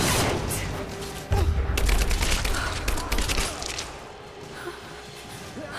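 Gunfire and impact crashes from the video game Rise of the Tomb Raider, a dense loud burst of shots opening the clip, then a steady din of battle with scattered cracks continuing underneath.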